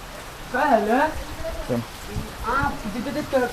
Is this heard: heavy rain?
yes